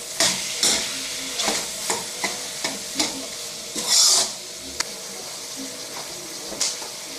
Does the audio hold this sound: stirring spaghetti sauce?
yes